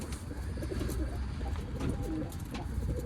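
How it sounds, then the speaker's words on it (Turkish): Pigeons coo softly nearby while being fed amid a low outdoor rumble, with a few flutters and small rustles; no talking. "Ben de geldim kuşlar yemliyorum."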